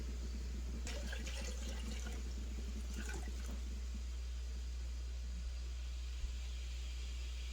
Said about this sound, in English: we're going to add just a little bit of water to ensure we have enough water in this water bath canner